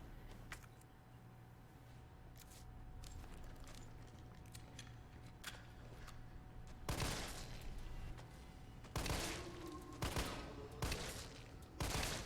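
Bursts of rapid gunfire in the video game Resident Evil 3 Remake crack out in clusters over a low ambient hum, loud and close, with quieter scattered shots between the heavier volleys.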